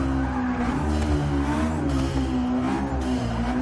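A turbocharged Honda S2000 track build in Forza 6 drones steadily at high revs, a loud, sustained engine tone with tire noise running throughout the short stretch.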